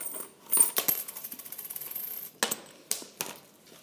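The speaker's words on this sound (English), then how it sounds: "Let me take the coins out." Coins tip out of a Louis Vuitton zippy coin purse, jingling and clinking against each other in a rapid cascade, then a few separate drops and clinks near the end.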